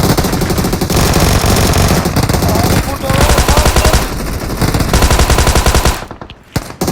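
Loud, rapid automatic gunfire in the mobile battle royale game PUBG Mobile rattles almost continuously for several seconds in dense bursts, then stops abruptly near the end.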